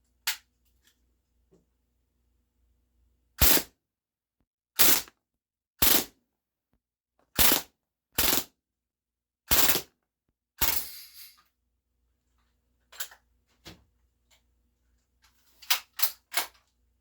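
KWC full metal Mini UZI 4.5mm CO2 airgun firing at a target about seven yards off, sharp single pops spaced a second or two apart and then a quick cluster of shots, loud and close against near silence.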